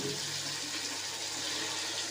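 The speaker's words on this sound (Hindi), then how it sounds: "ये हमने इसको पानी लगा दिया" Water is poured into a cooking pot of fried beef keema with mash daal (urad lentils), making a steady, close rushing splash that fills the whole moment without any talking.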